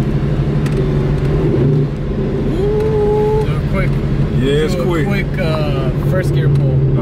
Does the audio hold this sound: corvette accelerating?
yes